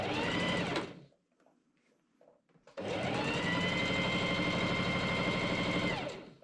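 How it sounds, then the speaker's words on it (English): Sewing machine stitching the collar facing seam of a Regency-style men's tailcoat, a steady close whirring run that stops briefly for a quiet pause, then resumes for several seconds before slowing off. "I machine sew that seam."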